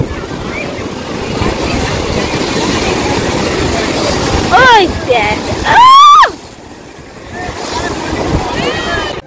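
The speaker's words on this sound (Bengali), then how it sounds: "আমরা চলে এসেছি খাওয়া দাওয়া করে ডাইরেক্ট সমুদ্রের এখানে। এই দেখো কি আওয়াজ" Sea waves roll and crash on the beach at Digha in a constant loud roar with wind buffeting the microphone, while people talk nearby and a couple of horn-like whistles cut through.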